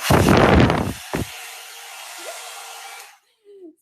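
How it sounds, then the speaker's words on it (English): A 4-in-1 Airstyler hair styler with its attachment removed runs as a blow dryer, giving a loud, close whoosh of air that eases into a steady hum for a few seconds, then cuts off abruptly. "this can be used as like a blow dryer"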